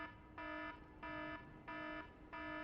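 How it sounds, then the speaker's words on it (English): A stock alarm in the Lies of P video game beeps in a steady on-off pattern, four long electronic tones with short gaps between them, loud and clear over quiet background noise. "A stock alarm sound, yeah, exactly."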